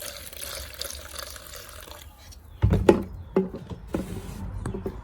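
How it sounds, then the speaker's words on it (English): Gasoline-based liquid poured into a plastic container, a wet trickling pour that begins partway through and continues with splashy bursts, close and moderately loud with no talk. "I'm going to now pour some of this gasoline based liquid in here."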